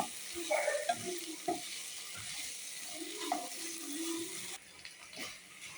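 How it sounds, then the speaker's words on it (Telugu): Stirring curd into a pot of meal maker biryani with soft scraping and mixing strokes over a low sizzle, occasional clinks, fairly quiet and close. "కొద్దిగా పెరుగు, కర్డ్ వేసి బాగా మిక్స్ చేసుకోవాలి."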